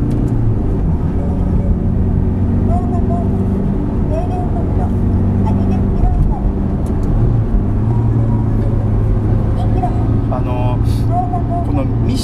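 A Ferrari F430 with the F1 transmission is driven, its engine a steady low rumble and drone that runs through the whole stretch while someone talks over it.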